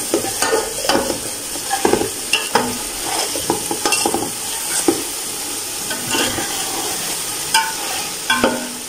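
Potatoes and eggs fry in masala for aloo anda biryani, with frequent close scraping stirs and clacks of a spoon against the pot over a continuous sizzle.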